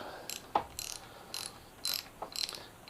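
Socket wrench ratcheting while loosening bolts on a Kawasaki Ninja ZX-636 motorcycle, close and crisp, in five or six short clicking bursts separated by brief pauses.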